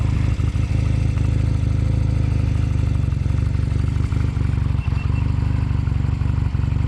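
A motorcycle engine started with the push-button starter, then running as a loud, close, steady throbbing idle with a mechanical clatter throughout.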